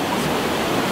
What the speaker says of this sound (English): we get to see a really nice waterfall. Nice cascading waterfall.